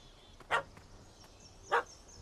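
A dog in The Witcher 3: Wild Hunt gives two short, sharp barks about a second apart, moderately near over a quiet ambient background.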